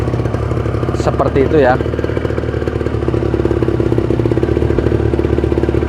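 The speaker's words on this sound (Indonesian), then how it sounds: "Nah, terus kita selah 1 kali yang cukup pakai tenaga." A two-stroke Kawasaki Ninja 150 RR engine running steadily after a kick-start, a loud close rattling idle with constant rhythmic pulses. Someone speaks briefly over it near the start.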